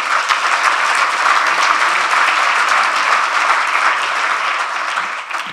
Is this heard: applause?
yes